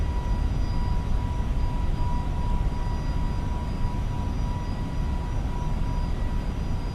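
Steady, loud engine roar of an FSLabs A321neo airliner climbing out of Edinburgh in the MSFS 2024 flight simulator, a dense broadband rumble with faint thin whines on top, unbroken and with no talk.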